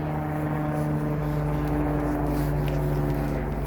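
A helicopter passes overhead with a loud, steady, droning rotor and engine hum that fills the whole clip without fading.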